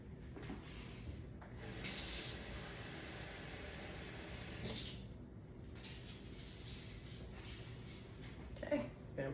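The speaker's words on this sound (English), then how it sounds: "let's get a cup of cold water" A kitchen tap runs to fill a cup with cold water, a close hissing gush that comes in two louder bursts with quieter flow between, and faint talk in the background.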